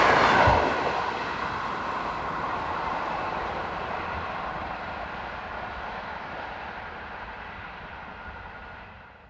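A class 963 train unit passes close by near Brachterbeek power station beside the river Maas, a loud rushing roar peaking at the start and then fading steadily as it draws away, with no voices.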